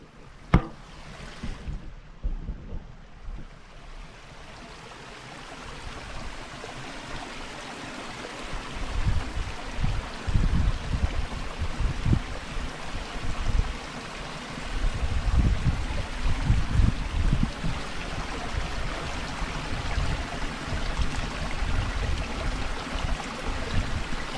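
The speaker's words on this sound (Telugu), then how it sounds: "ఇక్కడ చిన్న వాటర్ ఫ్లో అవుతుంది, సౌండ్ వినండి." A small stream of water flowing near a high-altitude tea factory in Kerala, a steady rushing burble that grows fuller and louder after a quieter start, close and continuous with no talking.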